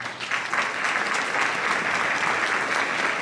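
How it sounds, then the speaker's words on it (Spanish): Steady audience applause fills a closing session of an in-person event, a dense continuous clapping from a large crowd that swells quickly and holds even and loud throughout, with no speech over it. "Fuerte el aplauso."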